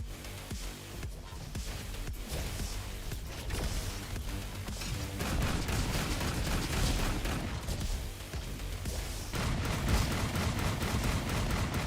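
Video game gunfire crackles in dense bursts and rattling volleys with booming impacts, sustained and busy throughout with no talk.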